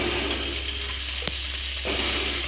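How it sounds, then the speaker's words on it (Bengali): Potato pieces frying in hot oil with salt and turmeric for a fish curry, a close, steady sizzle with a brief clink midway and a swell of hissing near the end. "তো আলুর মধ্যে এই যে তেলের মধ্যে আলুগুলো আমি দিয়ে দিচ্ছি।"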